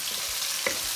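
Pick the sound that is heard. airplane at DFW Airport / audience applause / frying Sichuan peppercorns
frying Sichuan peppercorns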